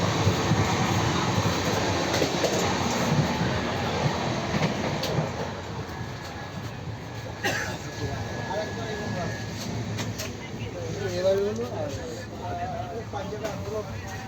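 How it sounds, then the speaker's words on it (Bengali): Steady rumble and rattle of a moving express train, heard from inside the pantry car with continuous clatter and a few squeals; background music and voices play over it. "এই হচ্ছে কিন্তু ট্রেনের প্যান্ট্রি কার।"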